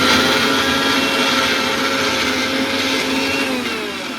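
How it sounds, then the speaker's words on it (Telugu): A mixer grinder whirs steadily as it blends washed, shade-dried herbs and curry leaves for homemade hair oil, a loud constant motor whine with a slight drop in pitch toward the end, no voices. "ఇవన్నీ మిక్సీ వేస్తాం."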